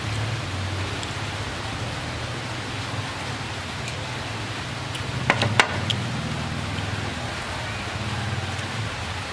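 Rain pours steadily outside a roadside eatery, an even wash of hiss with a low rumble underneath and a couple of brief sharp clatters midway.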